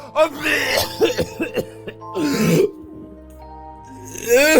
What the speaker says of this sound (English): Oh, yes, the coughing. There's always the coughing.